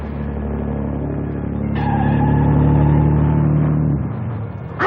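A 1930s-era car engine drones nearby at steady speed, swelling louder as the vehicle passes close, then dropping away and cutting off near the end.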